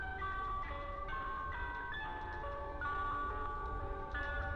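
An ice cream truck plays a tinny melody from its loudspeaker while driving along a street, the jingle's notes stepping steadily and clearly above a low traffic rumble, with no voices.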